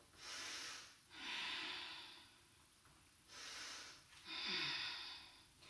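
Slow, deep yoga breaths held through an inverted triangle pose: four long airy inhale and exhale phases, each about a second or more, close and moderately loud with brief pauses between, no talking.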